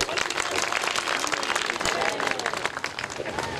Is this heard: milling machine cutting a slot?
no